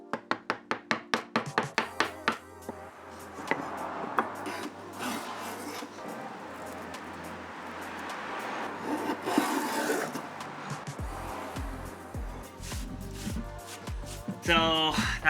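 A metal rivet tool scrapes a burr off the cut edge of a wooden monitor frame, giving repeated rasping, filing strokes. It opens with a quick series of sharp scrapes, then settles into steady rubbing, with talk present at times.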